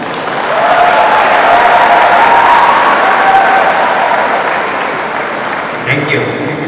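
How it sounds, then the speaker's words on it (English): Audience applause at the closing ceremony of an inter-district and state open badminton championship, a steady wash of clapping held for several seconds in a hall before fading slightly, with voices entering at the end. "A big round of applause for her."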